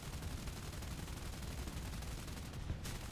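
Aircraft guns fire at an enemy plane in the video game War Thunder, a dense, rapid, continuous stream of gunfire that holds loud across the whole stretch with no talk.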